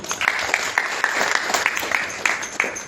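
Applause from an audience at a Bhagavad-gita lecture, a steady patter of many hands clapping throughout, moderately loud with a few sharper claps standing out.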